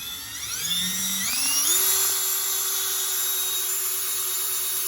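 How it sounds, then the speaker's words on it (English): Drill boring into an aluminum part during a DIY BMW quick release install, a loud high whine that climbs in pitch as the bit bites and then holds steady, with no talk. "so it might take quite a bit to drill out."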